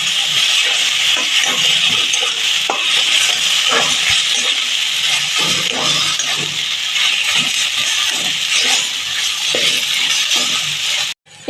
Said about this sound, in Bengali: ভালো করে নাড়াচাড়া করে নেবো আজকে।